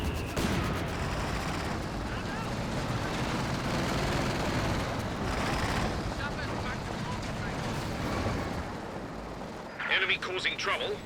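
A high-explosive artillery barrage in Company of Heroes 2 rumbles continuously as a thick, loud wash of overlapping blasts, with a few sharper crackling impacts near the end, while a commentator talks over it.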